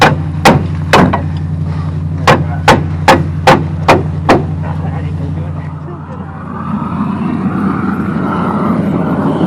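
Sharp metallic hammer blows on truck leaf springs ring out, about nine strikes in an uneven rhythm over a steady engine drone, then give way to a broad rushing noise.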